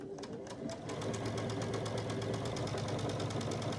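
Sewing machine stitching pieces of a pre-cut quilt, a fast, even mechanical chatter that runs continuously at close range with a regular clicking rhythm.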